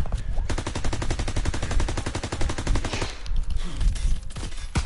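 A very fast-firing gun in a video game unloads a long, loud, rapid stream of shots for about three seconds, then stops, leaving quieter game sounds and clicks.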